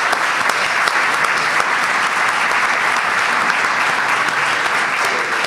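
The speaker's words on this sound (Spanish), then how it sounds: "Voy a pedir un aplauso porque acaba de hacer un viaje por 15 siglos de historia brutal y el aplauso lo empiezo yo" A studio audience at a Spanish history programme on the Sephardic legacy breaks into sustained, dense applause. The clapping stays loud and steady throughout, with no talking over it.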